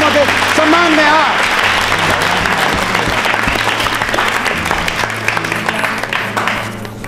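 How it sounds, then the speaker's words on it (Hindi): Audience applauding the seven teams at a state-round quiz show, a strong sustained burst of clapping that gradually tapers, with a host's voice speaking over the start. "तालियां बजाइए 7 टीमों के सम्मान में।"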